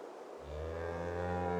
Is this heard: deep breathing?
no